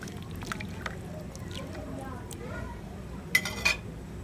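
Beef being stirred in a cooking pot, with scattered metallic clinks and scrapes of a utensil against the pot, fairly close, under faint background noise.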